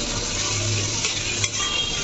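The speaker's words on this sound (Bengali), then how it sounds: "আমি এটা লাড়া দিয়ে মশলাটার সাথে ভাজা ভাজা করে নিচ্ছি।" Masoor dal with spices is stirred and fried in a pan, making a soft, continuous sizzle with faint scraping, close and alone.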